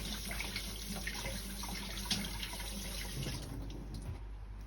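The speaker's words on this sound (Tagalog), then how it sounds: "Hugasan natin para hindi masyadong malagkit." An avocado seed is washed under a running tap at a sink. A steady, close rush of water lasts the whole time, with faint splashes as the seed is rubbed under the stream.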